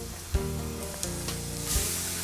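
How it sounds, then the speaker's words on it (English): Garlic sautéing in grapeseed oil in a pan, a close, continuous sizzle with a few soft clicks and stirring bumps. "Now, the garlic, we want to saute in the oil till it gets to a golden brown."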